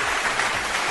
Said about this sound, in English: Let me give you guys an applause